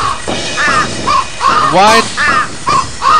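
Crows caw repeatedly in the video game Thirty Flights of Loving, loud harsh calls in a steady series across the scene, with a voice briefly speaking over them.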